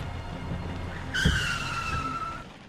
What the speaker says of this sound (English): I stepped on the brake and the car let out a noise similar to a scream